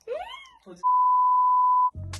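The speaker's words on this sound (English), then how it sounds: "Turn off the alarm." An alarm gives one long, steady electronic beep lasting about a second, loud and clean, with brief muffled vocal sounds just before it and a short noisy burst right after.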